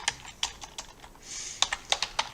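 Quick bursts of clicks from a computer keyboard while typing a short word into GIMP photo-editing software, about a dozen crisp, close keystrokes in uneven rhythm with a brief pause before the last few.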